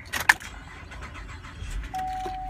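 A GMC Acadia's keys jangle briefly near the start, then a steady electronic chime sounds as the engine starts with a low rumble; no talking.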